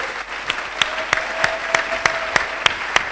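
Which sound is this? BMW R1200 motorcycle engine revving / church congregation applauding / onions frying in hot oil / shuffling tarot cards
church congregation applauding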